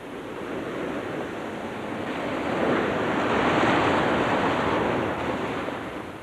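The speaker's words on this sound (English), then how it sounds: "I could make out the overtones of the waves ebbing and flowing on the shore." Waves wash in and out along a shore as a steady broadband surf roar with some wind noise, swelling gradually louder toward the middle and easing off slightly at the end, with no voices.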